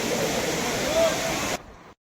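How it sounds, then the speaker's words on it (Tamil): Water pouring into the main lake, a steady broadband rush that cuts off abruptly near the end, with a brief voice heard over it. "மெயின் ஏரியில் நல்லாவே தண்ணீர் வருது"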